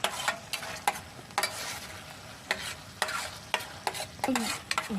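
Corned beef frying in spattering oil in a home pan gives a steady close sizzle, broken by repeated sharp scrapes and stirs of the spatula.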